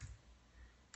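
A web address is typed on a computer keyboard with one hand, giving a couple of faint, close key clicks at the start and end of a quiet moment.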